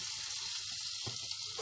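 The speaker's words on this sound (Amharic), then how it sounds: "ቂቤውን አቀልጣለሁ ማለት ነው" Butter, about 100 grams, melting in a hot pan with a steady soft sizzle and crackle throughout, close and continuous with no talking.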